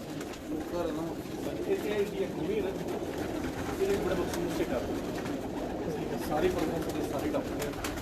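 Pigeons coo steadily in the background, overlapping low murmuring calls, with some faint talk mixed in throughout.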